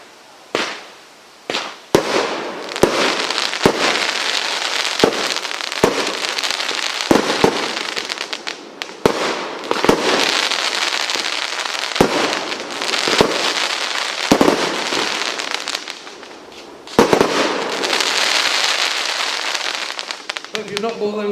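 A Tank Attack firework at a sale-day demo fires a long barrage of sharp, loud bangs and crackling bursts in quick succession, with scattered shots between denser volleys.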